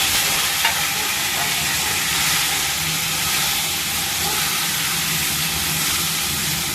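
A tomato goes into hot cumin-seed tempering for dal and fries with a steady, close sizzle and hiss that carries through the whole stretch without pause.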